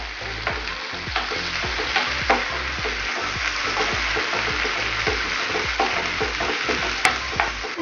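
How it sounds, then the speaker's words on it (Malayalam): Onions sauté in a pan for a fish dish, stirred steadily with a constant close sizzle and repeated scraping strokes of the spoon, with no talking. "നല്ലോണം ഒന്ന് നമുക്ക് വഴറ്റി കൊടുക്കാം"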